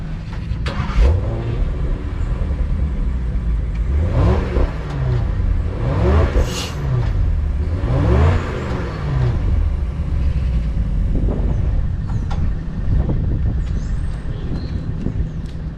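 A 2023 Range Rover P530 with a 4.4 V8 and factory exhaust, close by, revs repeatedly in sharp rising bursts that fall back to a steady idle between them.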